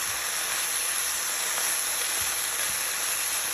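Sauce for chicken with broccoli cooks in a pan with a steady, close sizzle and frying hiss that runs unbroken, with faint stirring clicks and no talking.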